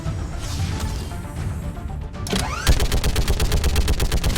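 Turret defense gunfire in the 2012 PC sci-fi RPG Mass Effect 3: a rumbling buildup, a swooping whoosh, then rapid, evenly spaced automatic shots hammering loudly and close.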